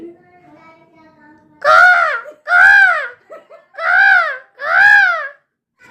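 A person imitates a crow, letting out four loud, nasal caws in an uneven rhythm after some quiet murmuring.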